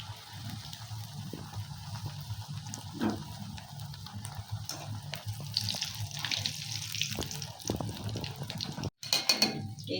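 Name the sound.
smiley potato chips frying in hot oil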